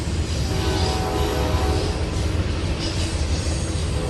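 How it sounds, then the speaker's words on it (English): A train rumbles steadily past at night, a continuous heavy rolling roar with faint metallic squeals, close and loud throughout. "there's about 7 or 8 trains that roll through every night, about every hour"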